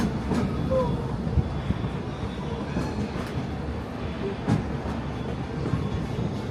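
The Disneyland Railroad train rolls along its rails on a foggy day, a steady, moderately loud rumble with faint rhythmic clicks of wheels over rail joints.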